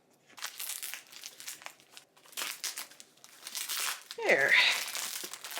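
Nail scissors slice into a heavily taped book package, giving steady crinkling and crunching of tape and packaging at close range, with a louder tearing burst near the end as a person speaks throughout.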